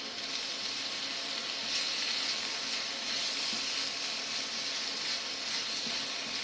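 Fajita carnitas meat sizzling steadily in a hot pan while being stirred, a continuous bright hiss with slight swells and no talking.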